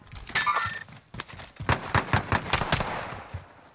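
Rapid bursts of gunfire in a tactical shooter video game, loud and close, with an early burst followed by a steady run of sharp repeated shots.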